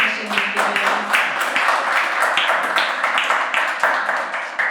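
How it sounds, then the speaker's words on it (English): Audience applause after a masterclass session on childhood trauma and resilience, with a dense, steady round of clapping from a sizeable crowd lasting several seconds at even loudness. "Can we all give a round of applause to Dr. Marc for the lovely session he's give"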